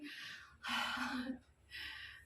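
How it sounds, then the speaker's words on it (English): Heavy panting from a woman catching her breath after a home workout: three loud, close, breathy exhalations in quick succession, the middle one longest and partly voiced. "I'm still panting."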